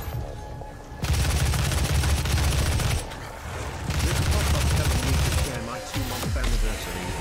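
Rocket launcher blasts and exploding enemies in DOOM, a dense roar of continuous explosions and gunfire filling the clip with brief lulls between heavy loud stretches.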